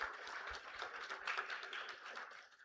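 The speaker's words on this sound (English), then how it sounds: "So I just need a loud applause from you guys." Applause from a student audience at a live creative showcase event, fairly faint and distant, a dense patter of clapping with a few sharper claps standing out, running steadily throughout.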